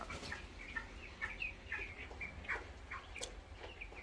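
Broiler chickens at fourteen days old on a poultry farm cluck and chirp repeatedly while being placed in a bowl for weighing, giving a steady run of short, fairly close calls over low background noise.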